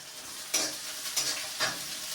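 Coarsely chopped onions frying in a pan, a soft steady sizzle broken by three quick stirring scrapes, close and fairly quiet, with no talking.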